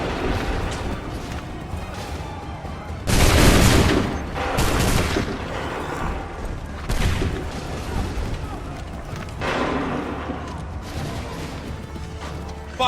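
Musket volleys fire in Assassin's Creed III, with loud broad bursts near 3 and 5 seconds and lighter shots around 7 and 9.5 seconds, set over a busy battle-scene backdrop.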